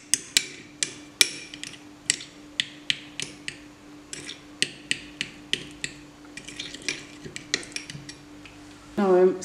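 Edible gold leaf mixture being stirred until smooth, a utensil clinking sharply against a bowl in a rapid, fairly regular series of metallic taps, close and clear, ending in a brief louder scrape.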